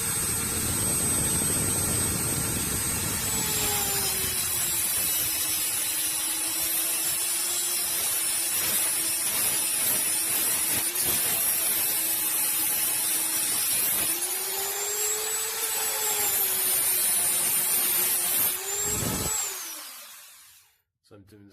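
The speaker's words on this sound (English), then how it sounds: "I'll cut most of the bolt off" An angle grinder with a cutting disc bites through a seized bolt on a Mazda MX5 front suspension ball joint, a loud sustained whine that dips and rises as the disc loads up, then spins down and stops near the end.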